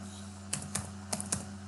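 Four quick keystrokes on a computer keyboard, typing code, land as two spaced pairs of crisp, close clicks over a steady low hum.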